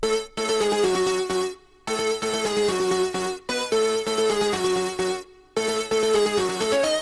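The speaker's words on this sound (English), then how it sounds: "So first of all, I came up with the melody" A bright synth melody plays in repeating phrases, separated by brief silent gaps, with layered tones and a steady bass underneath.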